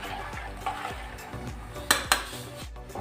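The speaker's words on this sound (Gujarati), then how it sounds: "ચમચાની મદદથી સારી રીતે મિક્સ કરી લઈશું" A spoon stirring turmeric and salt into khichdi in a pot, with several scraping strokes against the metal and two sharp clinks near the middle, over a faint background sizzle, no voices.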